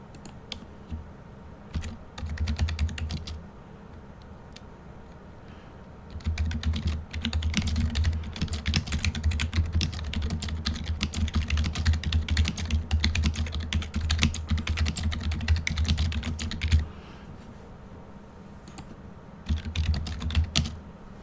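Rapid typing on a computer keyboard, close and clear, coming in dense bursts of clicky keystrokes that pause briefly between them, with no voices.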